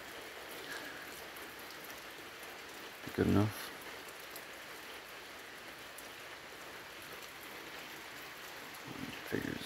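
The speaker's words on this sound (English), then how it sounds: "Figured it started raining harder." Steady rain falls outdoors around a homemade bandsaw mill setup, a constant broadband patter that holds evenly throughout, with a brief louder thump near the middle and someone speaking briefly over it.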